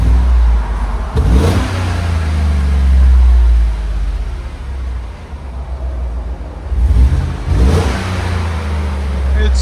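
A 2015 GMC Sierra SLT 5.3L V8 with a Borla Touring exhaust, idling with a deep low rumble, blipped into two short revs with a quiet idle between them.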